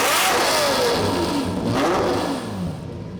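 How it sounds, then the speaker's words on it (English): A Lamborghini Murcielago with an aftermarket center-exit exhaust revs loudly up and down, its engine note rising and falling in a couple of close, roaring sweeps. "this particular car has an aftermarket exhaust to, well, enhance the sound, and it certainly does that."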